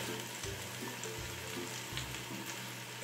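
Chopped vegetables with garlic, parsley and chili sizzling in olive oil in a pan, a steady close frying hiss with a few low clatters, no talk.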